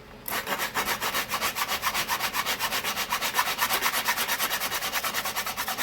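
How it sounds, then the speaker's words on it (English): Steady, rhythmic rasping of sandpaper on a wooden model airplane wing, close and fairly loud, back-and-forth strokes repeating quickly without pause and with no voices. "I don't like weird noises when I'm sanding."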